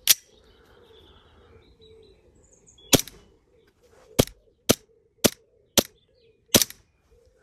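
An ICS ICP airsoft replica pistol fires about seven sharp, close, snappy shots at an uneven pace, with quiet gaps between them and faint outdoor background sound.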